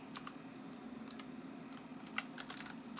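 Quiet, irregular keystrokes on a computer keyboard, with short bursts of clicks over a soft steady hum and no talking.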